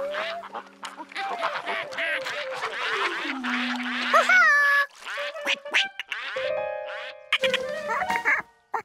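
Cartoon duck quacking repeatedly and loudly in a lively run of nasal quacks and honks, mixed with bouncy comic sound effects and a brief pause before more quacks, with no speech.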